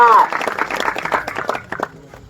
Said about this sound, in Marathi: जरा टाळ्या करा की त्याच्यासाठी.